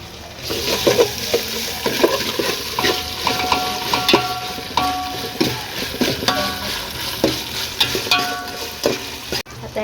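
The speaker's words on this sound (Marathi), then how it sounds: "आता आपण टाकत आहोत आलं लसणाची पेस्ट ही चांगली परतून घ्यायची आहे त्याचा कच्चा वास जाईपर्यंत" Ginger-garlic paste sautéing in a pan for crab curry, a steady frying sizzle broken by repeated scraping stirs of a spoon against the metal, close and fairly loud with no talk.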